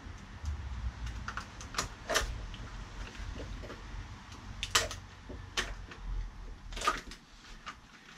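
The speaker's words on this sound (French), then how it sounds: "Bon, ensuite, on va couper le soufflet." An old CV joint boot is cut off a car driveshaft with a tool, producing faint, scattered snips and small scraping clicks at close range over a low background hum.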